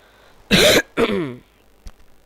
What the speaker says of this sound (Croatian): Oprostite zato što kašljem u mikrofon.